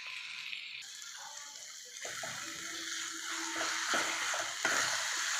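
Roasted eggplant bharit with turmeric being sautéed in a pan, a soft continuous hiss that grows slightly louder, with a few light knocks of a spoon stirring, close and with no voices.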